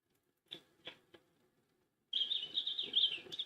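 Bird calls in a sound-guessing game: three brief chirps, then a sustained bright twittering song close by, with no talk.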